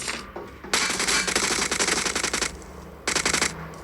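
Gunfire in a battle royale video game: a long rapid automatic burst lasting nearly two seconds, then a short pause and a second quick burst, loud and close.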